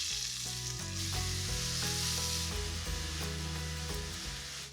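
Finely chopped red onions sizzle in a pan, a steady broad hiss running continuously beneath prominent music with sustained tones, no speech.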